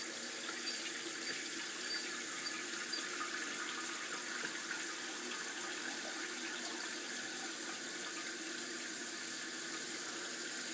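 A toilet tank refills through a Fluidmaster DuoFlush fill valve, producing a steady, close hiss of rushing water that holds at an even level throughout without any talk.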